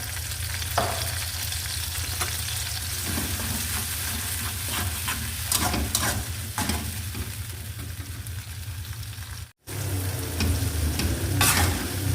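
A ground paste of red chili, garlic and shallot fries and sizzles steadily in a pan. It is stirred with scraping strokes, and the sizzle cuts out briefly once before resuming.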